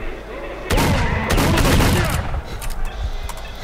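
Shotgun fire in S.T.A.L.K.E.R.: Shadow of Chernobyl comes as a loud burst of close blasts with a ringing, reverberant tail, followed by a few fainter pops and some voices.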